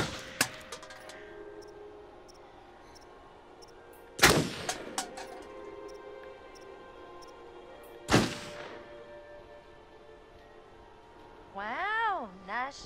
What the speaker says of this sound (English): Wow, nice shooting, Tex.